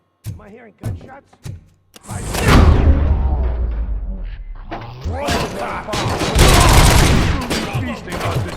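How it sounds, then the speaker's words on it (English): Gunfire erupts in the video game RoboCop: Rogue City, with loud bursts of shots and heavy thuds coming in dense waves after a few sparse early hits, mixed with game voices and music. "Am I hearing gunshots?"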